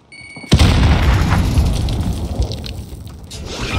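A single grenade blasts in Call of Duty: Warzone, a sudden loud, close boom after a quiet beat, followed by a long rumbling decay with debris and low crackle.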